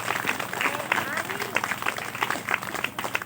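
A church congregation claps during a Hindi sermon, giving a dense, steady patter of many hands across the whole stretch, with a voice speaking over it.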